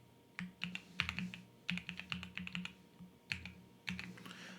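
A new password being typed on a computer keyboard, heard as close, crisp key clicks in quick bursts separated by short pauses, over a quiet background with no speech.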